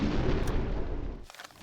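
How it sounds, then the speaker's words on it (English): A torpedo fired from a U-boat in the submarine game UBOAT, a short loud rumbling launch burst up close that cuts off into a quieter tail, with no voices. "Torpedo away."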